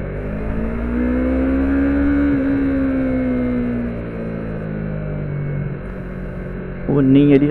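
A car engine revving as it accelerates, a loud, strong droning tone climbing in pitch and then holding steady, with a sharper surge of engine noise right at the end.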